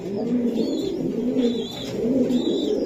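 Racing pigeons at a sale, soft repeated low cooing in slow rhythmic phrases with faint higher chirps, close and steady, no talking.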